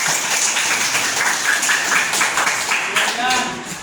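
A classroom group applauding, a burst of scattered clapping from children and teacher mixed with cheering voices, close and fairly loud, lasting a few seconds.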